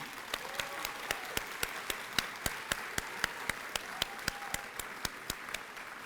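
A sparse scattering of claps at an achievement celebration ceremony, isolated sharp claps spaced evenly over soft room noise, with faint voices.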